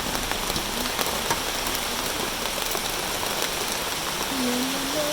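Steady rain falls on surfaces in Jim Corbett National Park, a dense continuous patter close by, with a faint tonal hum rising near the end.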